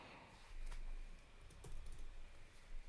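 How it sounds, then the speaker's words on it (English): An email address is typed on a computer keyboard during an online bank account sign-up. The soft, close keystrokes come in a brief run and sit under a steady background hiss. "you want to enter in your email address here. So I'll go ahead and do that now."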